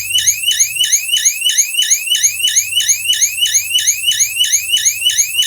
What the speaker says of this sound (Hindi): तो अभी मैंने डोर सेंसर में से ट्रिगर दिया और हमारा डिवाइस भी ट्रिगर हो गया